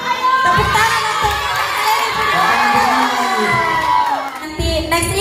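A crowd of school children at an event at SMP Negeri 6 Kupang shouts and cheers loudly and continuously, a dense roar of young voices with a few louder whoops rising over it.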